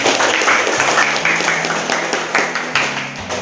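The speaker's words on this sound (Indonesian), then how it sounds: "Tepuk tangan buat" An audience at an Islamic school teaching session claps together in dense, steady applause that stays loud and close throughout, with no one speaking.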